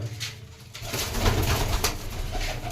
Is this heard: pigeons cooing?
yes